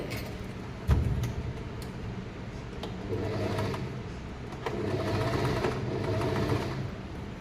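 A sewing machine stitching a blouse runs in close bursts of rapid mechanical chatter, with a sharp knock near the start and a steadier run toward the end.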